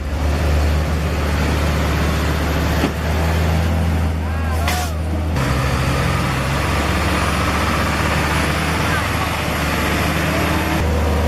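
A heavy truck engine idles with a deep, steady rumble close by, joined midway by a brief hiss like an air brake release, while a voice speaks over the running engine.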